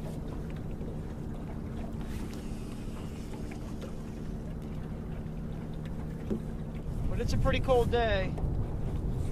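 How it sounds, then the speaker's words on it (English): Gusty winter wind at about 15 mph buffets the microphone outdoors while fishing for catfish, a low rumbling roar that grows louder toward the end as someone talks over it. "We have 15 mile per hour gust winds."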